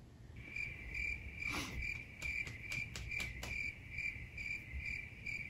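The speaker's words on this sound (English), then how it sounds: "Crickets." Crickets chirp steadily in a quiet night setting, a continuous high trill pulsing in even bursts, moderately close and alone without any talk.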